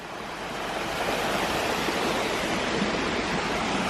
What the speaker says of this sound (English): Here's just a wee view of the waterfall.